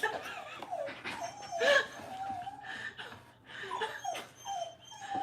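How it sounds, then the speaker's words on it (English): A dog whimpers and lets out high yips in short bursts, fairly close, mixed with a man's chuckling and scattered talk. "I have a dog attacking me"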